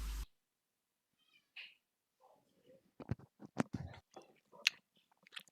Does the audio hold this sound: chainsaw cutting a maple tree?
no